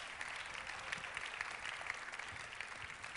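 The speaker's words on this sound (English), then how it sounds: "Can you give the Lord a hand clap of praise?" A church congregation gives a hand clap of praise, a broad wash of many people clapping, fairly distant and even throughout, with no speech on top.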